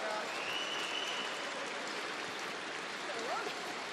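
Broad, steady applause from a large arena crowd at a women's world championship curling semifinal, Russia against Canada, filling the whole stretch without a break.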